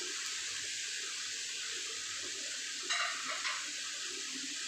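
Fried chicken pieces dropped into hot masala in a pan on a gravy chicken fry, a steady soft sizzle throughout with a brief louder spitting burst near the end, close but fairly quiet.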